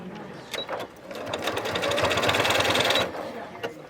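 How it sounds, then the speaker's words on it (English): A sewing machine runs a seam down a bag strap on a cork handbag, starting with short bursts and then a steady fast stitching run of about two seconds before stopping. "And you sew that seam down."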